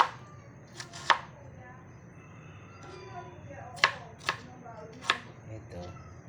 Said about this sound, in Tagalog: Kailangan maliliit ang gayat.